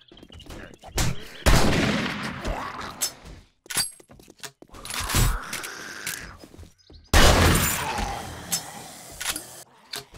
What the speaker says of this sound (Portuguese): Nossa, esse foi um super tiro, hein?